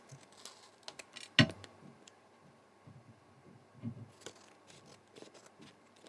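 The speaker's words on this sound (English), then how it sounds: "Now we can snip off this curve here" Scissors snipping card while trimming a curve for a handmade book card: a few soft isolated clicks and one crisp close cut, otherwise quiet.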